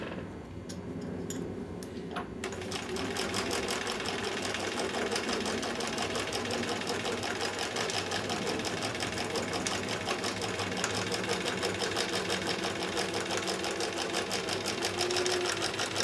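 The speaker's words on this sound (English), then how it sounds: "Here we are stitching the second set of seams" Sewing machine stitching quilt block seams for a mini mosaic quilt, running continuously and loudly after a brief start, with a fast, even stitch rhythm.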